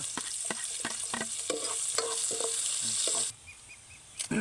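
Ginger and onion sautéing in a pan for adobo, with a steady sizzle and repeated spatula scrapes, until the frying noise drops away near the end.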